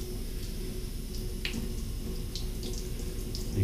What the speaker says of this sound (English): just give this shoe sole a little bit of a rinse